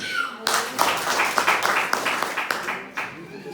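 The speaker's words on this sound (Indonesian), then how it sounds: "Tepuk tangan buat Tuhan." A church congregation at a Baptist gathering in Indonesia bursts into sustained applause, many hands clapping together in a dense, close, steady wash after a brief spoken lead-in.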